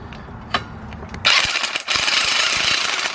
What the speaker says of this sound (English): use an impact. That's how you really drive that anchor in there.